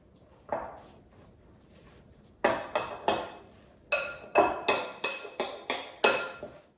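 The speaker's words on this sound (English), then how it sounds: "I'm just gonna mix it until the leaves are evenly coated" A spoon knocking and scraping against a bowl while tossing kale salad with creamy avocado dressing, a quiet start followed by a run of regular, close clinks and taps.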